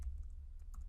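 Faint, sparse keystrokes as a command is typed on a computer keyboard, just a few soft taps over a low background hum.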